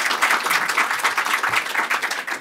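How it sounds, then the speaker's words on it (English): An audience applauds panelists at a policy discussion on U.S. detainee policy, a steady wash of many hands clapping at even strength throughout, close and alone with no voices. "please give our panelists a warm round of applause."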